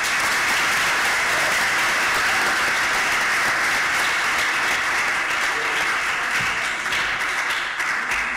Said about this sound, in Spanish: Un aplauso para vuestros compañeros que suben.